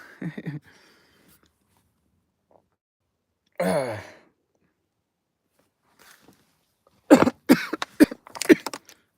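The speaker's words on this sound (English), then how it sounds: "Couple coughs." Scattered coughs and throat-clearing noises break a mostly quiet room, with a long breathy sigh in the middle and a quick cluster of coughs near the end.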